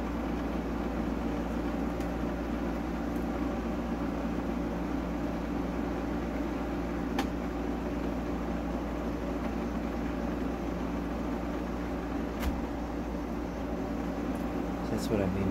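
An old Kenmore 7,000 BTU air conditioner runs with a constant, even whooshing hum and faint intermittent rattles and clicks, steady throughout with no voices.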